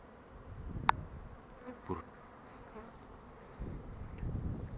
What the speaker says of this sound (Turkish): Bu arılar var ya. Müthiş çalışıyor ya